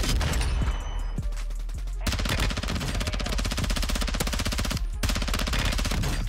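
An SMG built up as an AR fires in rapid, sustained bursts in Warzone 2, loud and close, with brief gaps between the strings of gunfire.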